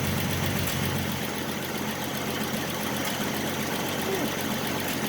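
A 1967 Ford Mustang's old inline six-cylinder engine idles steadily and close up, a continuous broadband rumble with a faint rhythmic knock, while someone talks over it.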